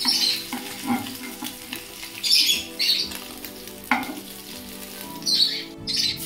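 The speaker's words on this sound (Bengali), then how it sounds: "হালকা হালকা যখন ভাজা হয়ে যাবে তখন এই অবস্থায় তুলে নিতে হবে।" Small tengra fish frying lightly in hot oil, a close, busy crackling sizzle with bursts of sharp spitting pops and occasional stirring knocks, loud and uneven throughout with no voices.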